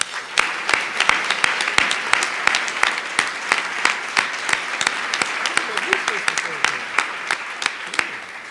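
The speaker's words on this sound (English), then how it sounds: "Could all these small group facilitators please stand and have a round of applause?" An audience at an opening meeting session applauds steadily, with the claps moderately close and sustained throughout at an even level.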